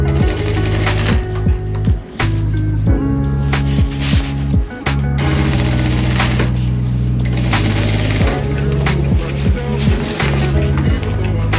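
Sewing machine stitching the mouth of a waterproof fabric pouch, a loud close steady mechanical whir broken by brief stops and restarts, with no talk.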